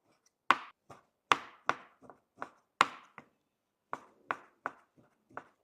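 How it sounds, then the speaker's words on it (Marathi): Boneless chicken being finely chopped with a knife gives about fifteen crisp, close knocks at an uneven pace, with short pauses between bursts. "अशा पद्धतीने पूर्ण बॉनलेस चिकन आपण बारीक कट करून घेऊ।"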